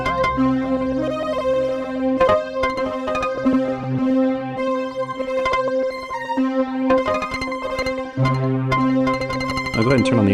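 An Elektron Analog Four MKII synth pattern through a Dwarfcraft Devices Super Wizard octave-up effect plays pitched, bell-like notes shifted up an octave, bright and busy with repeating rhythmic figures, loud and up front.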